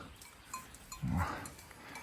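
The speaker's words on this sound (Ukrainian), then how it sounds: "от корови підійшли якраз." Cattle in a Carpathian forest draw near, giving a soft low moo-like call and faint bell-like clinks against quiet woodland ambience, with no talk.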